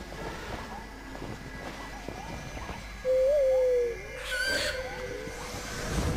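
An owl hoots in the video game Far Cry Primal, a single drawn-out call standing out clearly over a soft outdoor game ambience of wind and faint background sounds.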